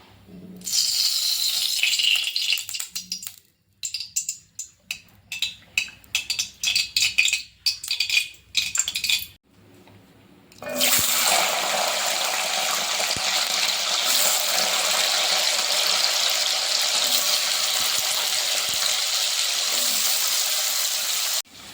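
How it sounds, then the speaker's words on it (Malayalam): Garlic cloves sautéing in oil in a hot pan for garlic pickle, a steady loud sizzle and hiss after a stretch of broken clattering and splashing sounds, with no talking. "ഇനി നമുക്ക് ഇതിലേക്ക് അല്പം എണ്ണ ഒഴിച്ച് ഈ വെളുത്തുള്ളിയെല്ലാം ചെറുതായിട്ടൊന്ന് വഴറ്റിയെടുക്കാം"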